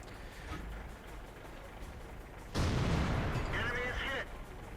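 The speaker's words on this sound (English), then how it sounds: "I know the BL-10 gun is temperamental at the best of times" BL-10 gun firing in a naval warship game: a single heavy boom hits at mid-clip, followed by a rumbling tail and a brief high mechanical whine, over steady low engine and ambient background noise.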